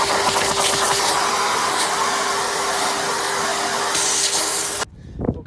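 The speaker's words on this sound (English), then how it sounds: "I am finished with the hoovering in the back and the middle currently." A vacuum cleaner hoovers inside a Land Rover Discovery 3, a steady loud whoosh with a constant whine that runs for about five seconds, then cuts off abruptly into quiet with a brief soft sound after.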